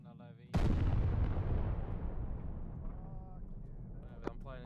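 A loud gunshot or blast from a military video game erupts suddenly and decays into a long rumbling tail, with faint tonal game sounds and another sharp crack near the end.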